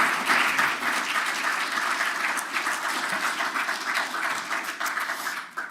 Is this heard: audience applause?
yes